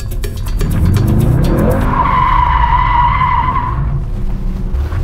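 Tires on a Mercedes-AMG GT squeal loudly while drifting, a long sustained screech over roaring engine noise, close up and continuous for several seconds.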